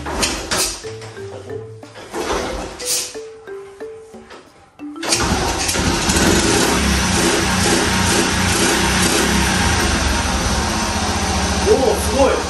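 A 30-year-old Honda Little Cub motorcycle with a freshly cleaned carburetor coughs to life after tonal sounds, then settles into a steady, close, buzzing idle that runs loud and even to the end.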